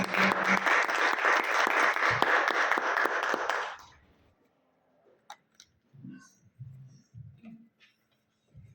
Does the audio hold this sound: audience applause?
yes